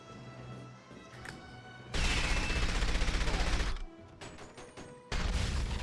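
Gunfire in the 007: From Russia With Love video game breaks out as a dense, loud burst of rapid shots lasting a couple of seconds, then stops, and a second loud volley starts near the end.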